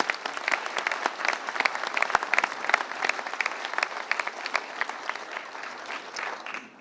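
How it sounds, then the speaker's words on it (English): A crowd at a development announcement for a Ferguson team bursts into sustained applause, dense clapping continuing steadily for several seconds with no break. "they deserve another round of applause"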